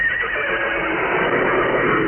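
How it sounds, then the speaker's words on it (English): A Missouri mule brays loudly on a Los Angeles radio broadcast, one continuous harsh, strained whinnying call heard alone over the air. "Was that a mule? That was, yes. Missouri mule."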